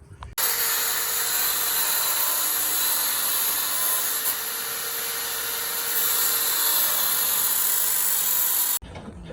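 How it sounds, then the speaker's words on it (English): An angle grinder cuts threads off a steel roll centre adjuster on a Mini Cooper S R53, giving a loud, steady high-pitched whine that runs unbroken for about eight seconds close by before stopping abruptly. "So we've taken an angle grinder to it, taken a couple of threads off"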